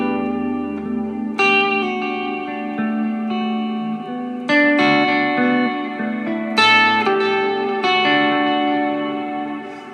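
Guitar played through an effects pedal with heavy reverb: strummed, distorted chords ring out and blur into long, washy trails that sustain and overlap between strikes, with no talking.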